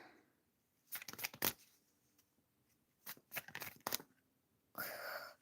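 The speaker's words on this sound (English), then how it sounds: "Let's shuffle some cards" A deck of tarot cards is shuffled in quick bursts during a live reading, with riffling crisp snaps coming in several clustered rounds between brief quiet pauses, close and fairly loud.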